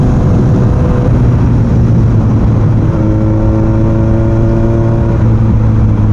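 A 2002 Yamaha YZF-R1 motorcycle engine revving up close, very loud and continuous, its tone climbing to a higher, sustained whine partway through and holding there.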